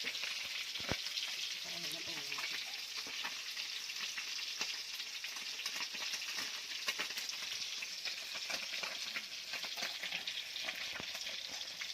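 Fish frying in oil in a pan for a Thai meal, a steady dense sizzle and crackle with scattered pops throughout, close and continuous.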